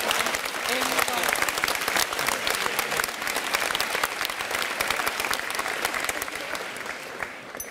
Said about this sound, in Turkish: En büyük alkış buna geldi.